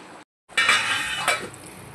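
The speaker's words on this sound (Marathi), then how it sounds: "पाणी ॲड केल्यानंतर आपण त्यावर आता झाकण ठेवूया" A lid set onto a cooking pot of Hyderabadi-style mutton keema with added water, giving a close metallic clink and clatter after a brief silence, followed by a low simmering hiss.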